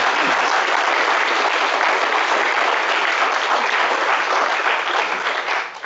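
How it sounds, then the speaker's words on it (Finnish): Loud, sustained applause from a conference audience fills the hall steadily for several seconds before starting to taper off at the end. "Aplodit ja toivotetaan."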